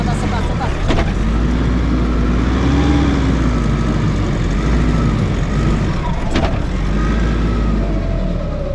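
A 4x4 engine driving over rough terrain: a loud, steady low rumble that rises and falls slowly, with a couple of sharp knocks from the vehicle along the way.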